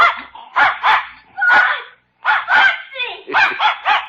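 A dog in a 1951 radio drama barks in a rapid string of sharp, close yelps, pausing briefly midway before another eager burst of barking.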